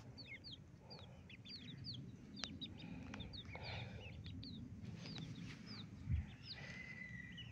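Many small chicks peep continuously in high, rising chirps, fairly faint, over a soft rumble of outdoor background noise and one low thump.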